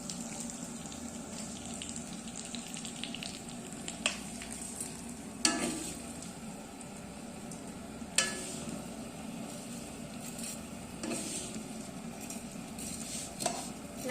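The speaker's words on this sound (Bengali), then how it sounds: "লাল লাল করে ভেজে নেব।" Vermicelli frying in mustard oil until it turns reddish: an even hiss runs throughout, with occasional metallic knocks and scrapes from stirring.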